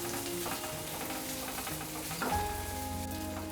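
Food frying in a pan for a fish curry with bottle gourd shoots and potato, a faint steady sizzle with a sharper clatter near the middle, heard alone with no talk.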